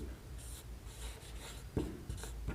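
A pen scratches out a maths solution on paper in short, close strokes with brief pauses, fairly quiet throughout.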